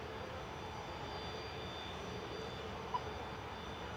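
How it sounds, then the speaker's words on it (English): A 20-year-old Aer Lingus Airbus A320 in Irish rugby team livery comes in from Dublin to land at Manchester, heard as a faint, steady, distant jet rumble with one brief small click. "Here's the Aer Lingus and the rugby team livery coming in."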